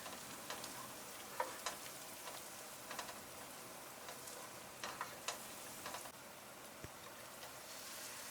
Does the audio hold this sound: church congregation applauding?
no